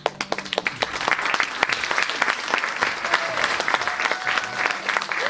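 Audience clapping at a live magic show, dense applause with distinct individual claps rising and falling, fairly loud and steady, with faint voices underneath.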